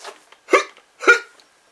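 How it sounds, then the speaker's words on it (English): Three sharp hiccups from one person, spaced about half a second apart, close and clear against near silence, with a small breathy sound just before them. "looks like someone's got a case of the hiccups"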